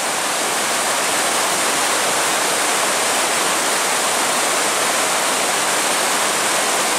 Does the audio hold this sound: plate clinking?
no